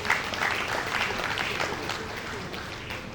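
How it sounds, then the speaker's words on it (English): A hall audience at a surveyors' association luncheon in Lagos gives a sustained round of applause, dense steady clapping that fills the whole stretch before slowly thinning. "I think it deserves a round of applause"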